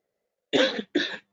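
Two sharp coughs in quick succession, close and fairly loud, against silence.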